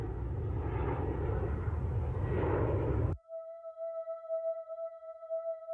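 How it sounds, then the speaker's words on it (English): A plane with its crew roars loudly past at close range, a dense rushing drone that cuts off abruptly after about three seconds and gives way to faint, steady tones. "There went that plane"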